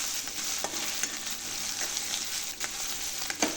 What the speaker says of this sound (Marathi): ते पण दोन ते तीन सेकंड परतून घेते